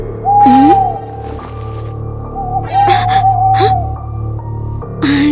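Several hoots ring out, separated by pauses and rising and falling in pitch. Breathy, noisy bursts sit between some calls, and the hooting may be a voice imitating an owl.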